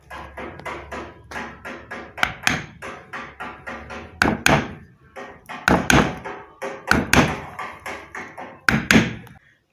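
Repeated sharp taps of a small, edgeless wooden board knocking burnt water-pump motor coils down to clear room for the rotor, arriving in quick uneven bursts, close and fairly loud, with no talking.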